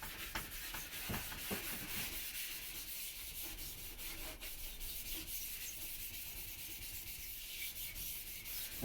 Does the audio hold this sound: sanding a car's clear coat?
yes